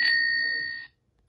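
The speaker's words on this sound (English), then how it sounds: "Bicycle." A bicycle bell in a children's game app gives one clear ring that fades out over most of a second, followed by near silence.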